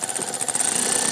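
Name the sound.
tightening a valve cover bolt on a Jeep Grand Cherokee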